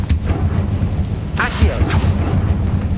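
A Confringo spell blast fires in Hogwarts Legacy with a sharp crack, followed a second later by louder booming bursts over a low rumbling background.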